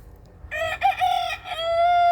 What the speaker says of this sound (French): Voilà, le coq Breckel